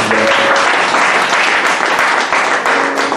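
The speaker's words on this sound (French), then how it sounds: "Je voudrais qu'on acclame le Seigneur pour tous les étudiants." A crowd applauds at a student certification ceremony at a Bible institute, dense continuous clapping that stays loud throughout with no talking.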